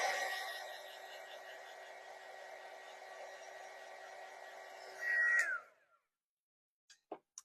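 A hair dryer blows steadily on a craft kit piece, with a broad whooshing roar that rises briefly louder before cutting off, followed by a few faint clicks and handling noises.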